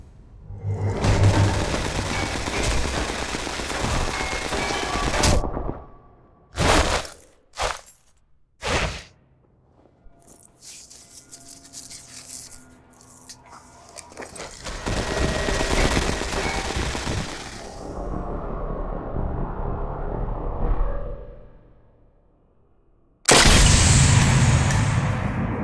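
Gunfire and booms from Sniper Elite 4, a sniper shooter played at ultra settings, come in loud dense bursts with short sharp shots between them, then quieter rumbling stretches and a final heavy blast.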